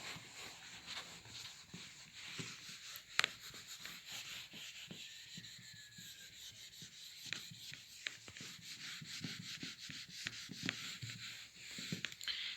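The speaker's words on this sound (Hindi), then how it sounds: "तो यहाँ पे अब हम रब कर लेंगे इसको।" An eraser rubbing out pencil writing in a Class 9 geometry exercise, quick scratchy back-and-forth strokes with a few sharp taps, close and quiet, continuing without talk.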